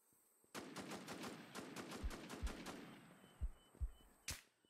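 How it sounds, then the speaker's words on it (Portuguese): Rapid bursts of automatic assault rifle gunfire in the video game Infestation: The New Z crackle in quick succession, followed by several heavier single shots and a final sharp blast. "Ele tá tomando tiro de assalto."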